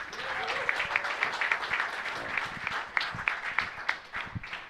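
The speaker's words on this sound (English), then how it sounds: "So give another round of applause for everyone up here." An audience applauds a live big band at a jazz concert, a steady wash of clapping with a few louder individual claps, sustained throughout with no talk over it.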